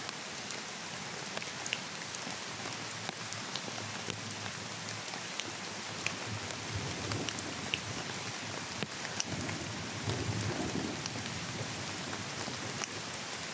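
Steady rain pours down in a continuous hiss, with scattered drops pattering close by and no voices.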